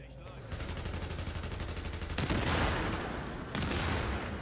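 Gunfire in The Division, sustained rapid automatic bursts from several weapons overlapping in a dense fusillade that grows louder midway, with continuous firing throughout.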